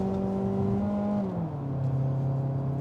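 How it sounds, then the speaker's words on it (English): 2022 Mazda 3 engine heard from inside the cabin while driving, a steady raspy drone whose pitch holds then drops smoothly as the revs fall, with no talking. "There's something about the really raspy engine note that I love."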